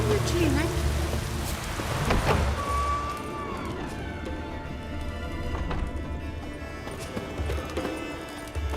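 Rain in The Witcher 3, a steady hiss of falling drops on surfaces under other game sounds, including horse hoof clops and a brief tonal cue early on, moderate and continuous throughout.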